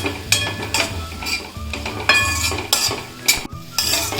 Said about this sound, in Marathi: आता चपातीचा चुरा टाकून घेते आणि चांगलं परतून घ्यायचं